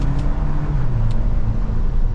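A 2024 Toyota Land Cruiser First Edition accelerating in manual mode with stalk shifting, heard from the cabin as a steady, low engine drone and road hum, with no voices.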